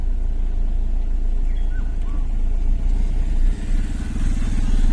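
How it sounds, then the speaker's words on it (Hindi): A Hyundai Elite i20 Asta diesel car creeps forward as the clutch is released, giving a steady, low engine rumble with a faint mechanical clatter throughout and no voices. "मैं जैसे ही क्लच छोड़ूंगा ये कार अपने आप धीरे धीरे धीरे धीरे आगे बढ़ने लगेगी।"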